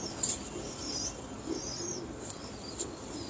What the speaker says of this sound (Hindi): ये लें जी, ये कबूतर है, बहुत ही शानदार मतलब बड़ा बैटमैन किस्म का कबूतर है